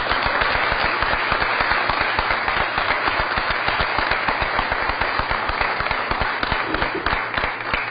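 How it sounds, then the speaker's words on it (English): Round of applause at a Board of Aldermen meeting, many hands clapping in a fast, steady patter for eight seconds, loud and close with no voices over it. "Let's give a round of applause"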